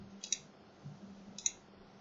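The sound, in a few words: computer mouse double click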